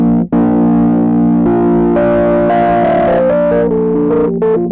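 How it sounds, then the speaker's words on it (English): An electric piano played through a distortion effect plugin: a loud, buzzing, harmonically rich sustained chord, with notes shifting and stepping over it for several seconds. "if I add some distortion, it can really wake those harmonics up again"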